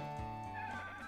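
A horse neighs during a ride in the farming game Story of Seasons, one short whinny over steady in-game music, with hoofbeats faintly under it.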